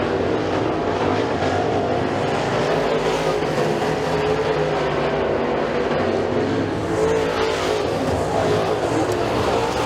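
Race cars roar around the oval at Stateline Speedway in a dense, continuous engine drone that stays loud and steady, swelling slightly as the pack passes.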